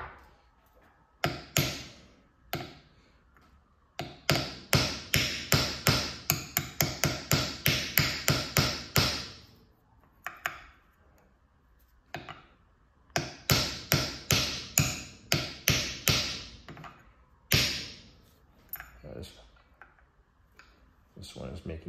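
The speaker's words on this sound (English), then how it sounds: "let me try to see if I can hammer these pins out because they're pretty much set" Metal hammer strikes ring out while tapping pins out of a sideways extension chain drive, rapid bursts of sharp taps separated by short pauses and a few isolated louder blows.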